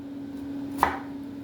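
A knife cuts slits into an onion near the root with a single short, crisp chop against a quiet kitchen background, with a steady low hum underneath.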